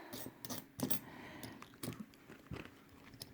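Pound coins clink and tap as they are counted out of a cash budgeting envelope, several short metallic knocks in an uneven rhythm, close up with no talking.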